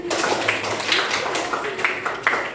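Applause for a student in a classroom during a teacher's coaching session, a dense patter of claps running steadily throughout with no break.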